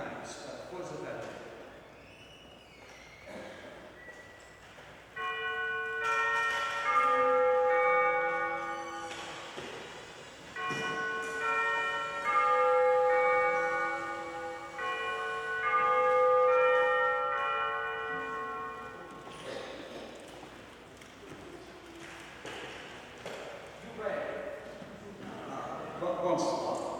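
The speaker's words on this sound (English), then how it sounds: "Rings a bell 3 times for the valet." A bell is rung three times to summon a valet in a radio-drama staging of a Poirot mystery: three sustained, resonant ringing tones, each lasting several seconds and spaced apart, with voices heard before and after.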